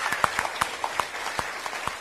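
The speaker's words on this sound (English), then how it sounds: "Can I have a massive round of applause for that?" Audience applause at a live cooking demonstration in Ipswich, Queensland: scattered, fairly faint clapping with distinct individual hand claps standing out over a softer wash of crowd, steady throughout with no talking.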